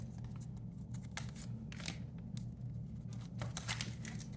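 Tarot cards being shuffled give soft, papery riffling and slapping bursts, repeated several times at close range over a low constant hum.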